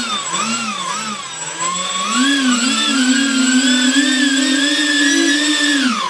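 Electric ducted fan engines on an RC Airbus A380 model whine up and down in pitch as throttle is applied, rising into a loud, sustained high-pitched whir heard up close, with no talking.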